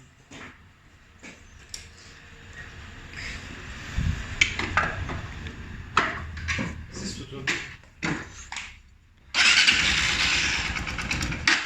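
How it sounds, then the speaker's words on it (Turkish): A Honda CBF 200 motorcycle engine, tuned for performance and run with its exhaust left off, cranks and catches with a loud burst near the end, then settles toward idle. People talk nearby throughout. "Bırak rolante çalışsın."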